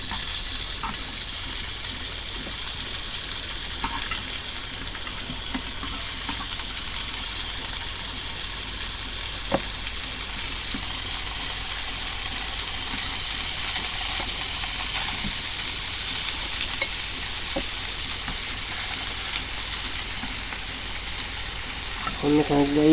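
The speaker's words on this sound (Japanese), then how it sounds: "今日は生揚げ炒めでいきます" Triangle-cut atsuage, thick fried tofu, stir-frying in a pan, a steady hissing sizzle throughout with occasional stirring clacks, heard beneath intermittent talk.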